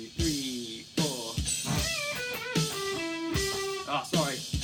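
An electric guitar plays the first four bars of a solo at full speed: a quick run of separate plucked notes with some sustained pitches, fairly quiet and with no other instruments.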